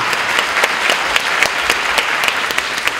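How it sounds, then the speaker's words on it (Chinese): An audience at a singer's fan meet-up applauds without a break, a close, lively wash of many clapping hands with crisp individual claps standing out. "掌声鼓励一下"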